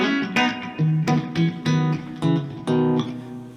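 An electric guitar through a straight Fender Bassman amp plays a run of picked notes and short phrases, clean with a warm amp tone, fairly loud with brief pauses between notes.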